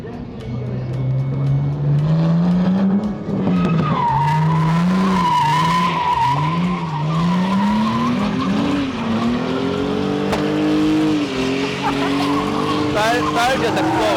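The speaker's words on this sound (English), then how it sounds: "when they finish drifting, they just kind of do more burnouts in this spot" A car at the Flatout Power Festival 2021 in Poland does a burnout, its tires screeching and squealing loudly and continuously while the engine revs rise and fall in waves, close and sustained.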